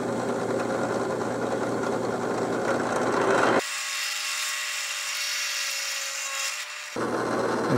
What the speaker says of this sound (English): It's time to drill the hole for the pole that this thing is going to stand on.